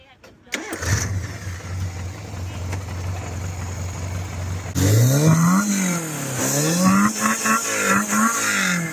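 A car engine starts with a sharp crank, then settles into a steady idle before being revved repeatedly in rising and falling bursts, loud and close, with voices talking over it.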